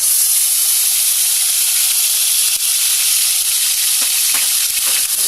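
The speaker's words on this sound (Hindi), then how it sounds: "ऑयल गर्म हो चुका है, इसमें हम ये जो जिंजर गार्लिक पेस्ट है वो डाल देंगे।" Ginger garlic paste frying in hot oil in a kadai, a loud, continuous close-up sizzle with a few faint stirring scrapes near the end.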